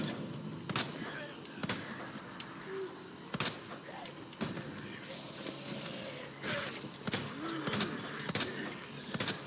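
Gunfire in Resident Evil 2 Remake: several sharp shots ring out at uneven intervals, some in quick pairs, over a low tense game ambience, with a voice speaking briefly between them.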